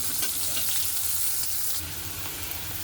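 Onion fries in oil, half-browned, ahead of adding prawns for a jackfruit dish, a dense continuous hiss with a soft spoon scrape or two, close and steady throughout, with no talking.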